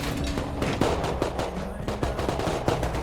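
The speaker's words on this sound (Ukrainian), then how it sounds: "Там боти стріляють, по п'ятки стріляють." Rapid bursts of gunfire from bots in the video game Rust crackle continuously, dense and overlapping, with a faint voice underneath.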